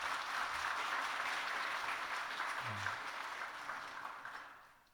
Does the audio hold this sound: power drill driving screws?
no